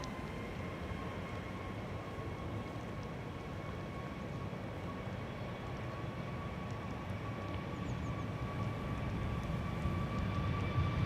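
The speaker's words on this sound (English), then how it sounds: "First up, Air Europa flight 1098. It's going to go to Madrid." Air Europa Boeing 737 Max 8 departing Amsterdam Schiphol for Madrid, a distant steady jet rumble with a faint high whine, swelling slightly louder toward the end, no voices.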